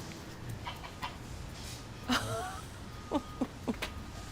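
A pet goose named Maria in Los Angeles gives a few short, fairly faint honks and clucks, scattered over quiet background noise.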